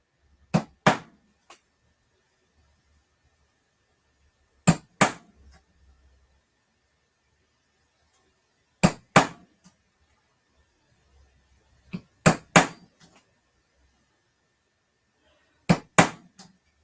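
Sharp metallic hammer strikes punching a small divot into metal in a metals studio, arriving in clusters of two or three taps every few seconds, close and crisp, with silence between groups and no talking.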